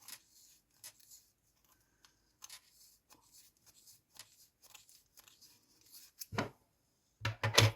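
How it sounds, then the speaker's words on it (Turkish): Scissors snip repeatedly through material for a knitted princess elastic hair tie, with sparse close crisp cuts growing denser and louder toward the end. "bu şekilde keseceğiz. Tekrar makasımı alıyorum."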